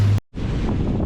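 A whale tour boat speeds across dark water off Tromso, with heavy wind buffeting the microphone and a broad rushing roar of hull and spray, interrupted by a brief dropout.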